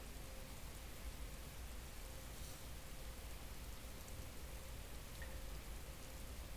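Steady rain falls in an outdoor scene of the Breath of the Wild video game, a constant, even hiss of drops with no other sounds, quiet and unbroken throughout.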